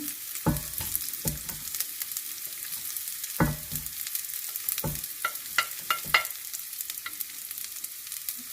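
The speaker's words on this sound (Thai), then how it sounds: "เห็ดหอมลงไปผัดให้หอมนะคะ" Shiitake mushrooms, shrimp and aromatics such as coriander root, fingerroot and ginger stir-fried in a hot pan, with steady sizzling broken by repeated scraping strokes of a spatula, close and fairly loud.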